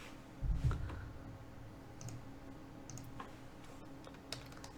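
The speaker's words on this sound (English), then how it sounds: "And I'm just typing a status" Quiet computer keyboard typing, with scattered soft key clicks and taps at an irregular pace in a hushed room.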